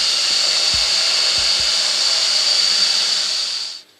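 A woodturning tool cuts a piece of wood now turned round on a lathe, giving a steady, loud hissing cutting noise that runs evenly for a few seconds before cutting off abruptly.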